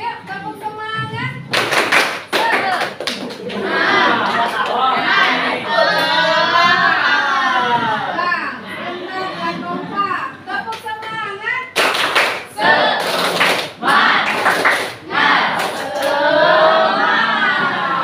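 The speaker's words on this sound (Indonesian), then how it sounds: "Ya, tepuk semangat dulu ya. Tepuk semangat." A classroom group does rhythmic spirit clapping in short bursts of sharp claps, woven through with loud group chanting and a teacher's voice.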